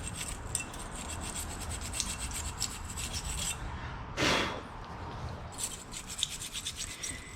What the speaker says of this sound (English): So I'm just going to go ahead and give them a nice scraping